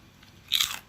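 A single crisp bite into garlic-fried pork intestine, crunchy and close, a sharp burst of crackle lasting under half a second against quiet.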